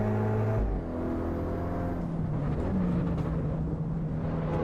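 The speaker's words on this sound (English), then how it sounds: "You can hear the tyre on the right hand side." Tyre and engine noise from a front-wheel-drive car lapping Brands Hatch in Assetto Corsa EVO, a steady droning whir of engine and road roar with a tone that shifts in pitch, heard alone and fairly close.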